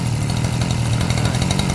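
A used Japanese grass cutter's small two-stroke engine buzzes steadily and loudly after a pull start, with a close, even, rattly drone and no talking.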